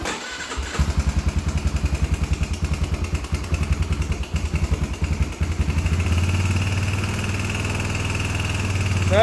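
A cold Yamaha YFZ450R ATV engine catches on choke after a failed electric start, then runs with a loud, steady, rapid thumping idle that smooths into a continuous drone.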